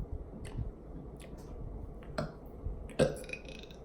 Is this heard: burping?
yes